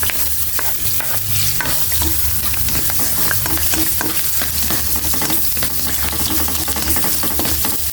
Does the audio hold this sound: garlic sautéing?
yes